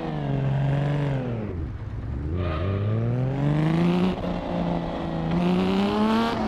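A Lamborghini Miura P400SV in Assetto Corsa revs hard in neutral. The engine note dips and then climbs again in rising sweeps, loud and close, with a brief lull before the revs build back up.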